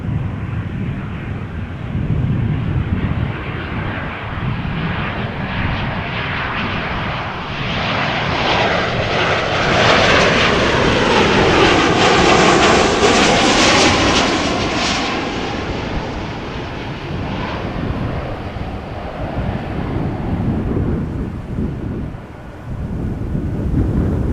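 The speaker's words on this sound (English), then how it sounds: "Another 737 from KLM this time round." A KLM Boeing 737 jet passes at Amsterdam Schiphol, its engines building to a loud, broad roar that peaks midway and then slowly eases, a steady sustained rumble with no talk.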